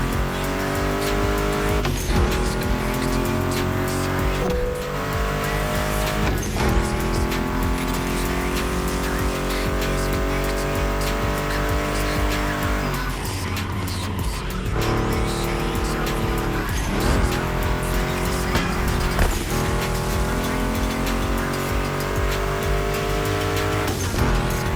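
Mustang GT muscle car in the video game The Crew Motorfest, loud engine revving and shifting through gears with repeated tire squeals and skids, sustained racing noise throughout.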